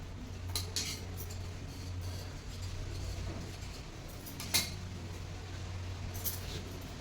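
Scissors cut through blouse fabric, making a few sharp, isolated snips and metallic clicks spread out over several seconds against a quiet room hum.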